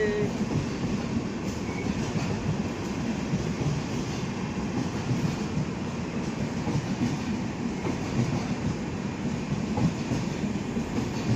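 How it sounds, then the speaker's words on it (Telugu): An SVMT Express train rolls into a station, a loud continuous rumble of wheels and carriages with rhythmic clatter and faint squeal, close and unbroken throughout, no talk. "ఇప్పుడే మన స్టేషన్లోకి ఏదో బండి అయితే వచ్చిందండి"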